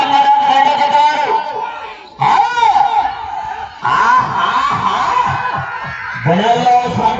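A crowd cheers and shouts at an Ongole bull race, bursts of loud whoops and yelling rising and falling in several waves, close and dense, with voices mixed in.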